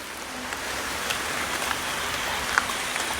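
Steady outdoor rain patters on surfaces in a continuous broadband hiss, with a few scattered, slightly louder drop ticks standing out briefly.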